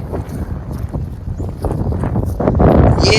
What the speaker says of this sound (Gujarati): એકદમ બહુ મસ્ત હવા આવે છે